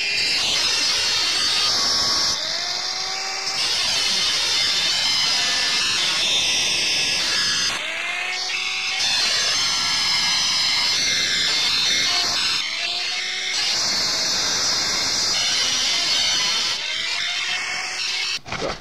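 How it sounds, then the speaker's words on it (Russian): An angle grinder whines loudly, cutting around the edge of a circular saw blade to reduce its diameter, the pitch dipping and rising as the cut changes, with brief pauses between longer passes. "Сейчас болгарочку я так пройдусь по кругу."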